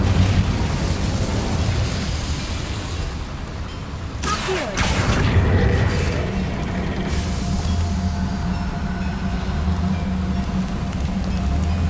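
The Incendio fire spell is cast in Hogwarts Legacy, a sudden burst of flame that erupts sharply over a loud, continuous game soundscape, then fades back into the steady background rumble.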